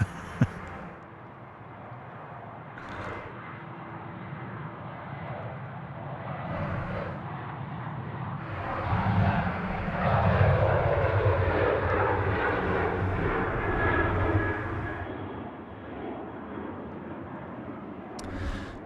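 A Boeing 737-800 jet rolls for takeoff at Sydney Airport, its engine roar building to a loud peak midway, then easing as it pulls away into the distance.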